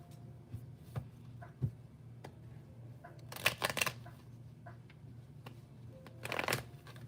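A deck of tarot cards is shuffled close by, with soft brushing and flicking, scattered sharp riffles and two louder bursts of rapid card slaps against low background hum.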